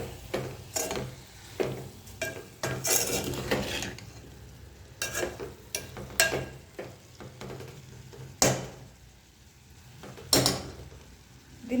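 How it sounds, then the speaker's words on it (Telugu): Curry being stirred in a pan after salt is added, with repeated close scraping strokes of a spoon against the metal and a soft sizzle underneath, with no voice. "ఉప్పు వేసుకున్న తర్వాత కలుపుకుందాం ఒకసారి."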